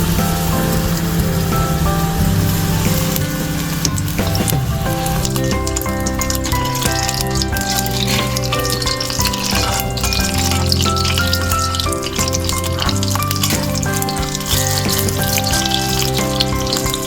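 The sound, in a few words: chilli pakoras frying in a wok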